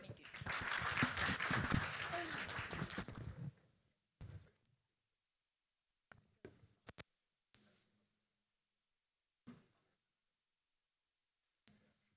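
Brief audience applause for panelists at the end of a panel session, a dense burst for a few seconds that cuts off, followed by sparse isolated thumps and near silence.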